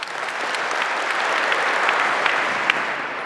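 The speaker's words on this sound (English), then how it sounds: "We have several veterans among us, members of our country's most successful and prestigious forces, the Spetsnaz, and we applaud them." An audience in Saint Petersburg claps for Spetsnaz veterans at a competition, a continuous wash of applause that builds slightly and then holds, with a few sharper claps standing out.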